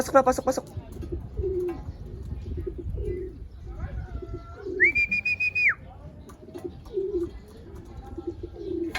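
A racing pigeon arrives at its loft after a 349 km race from Matnog, Sorsogon, with repeated low cooing from nearby pigeons and one brief, sharp whistle partway through.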